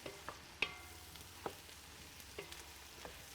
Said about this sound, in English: So right now I'm just stirring them constantly